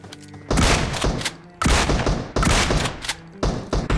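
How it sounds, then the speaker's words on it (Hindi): Gunfire in a battle royale video game, heard as several loud, close bursts of shots separated by brief pauses. "तीन शॉट मारे"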